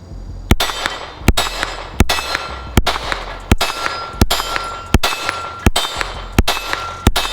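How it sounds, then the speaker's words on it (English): Ten sharp shots from a Glock 43X pistol fitted with a Radian compensator, firing 124-grain Blazer ammunition, come at a steady, fairly quick pace with brief ringing gaps between them. The shots are loud and close, with no talk. "we shot 10 rounds of the 124"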